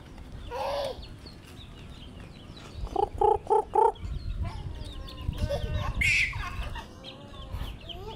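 Chickens cluck and squawk nearby in a yard, with a quick burst of four sharp clucks in the middle and scattered calls before and after, over faint background rustling.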